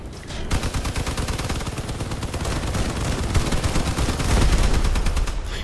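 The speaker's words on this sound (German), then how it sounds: "Weil die schießen ja hier nur wie die Irren auf die Fahrzeuge." Cannons on armored vehicles fire in nonstop rapid bursts in the Crossout combat game, a dense, loud, continuous barrage of booming shots that swells slightly toward the end.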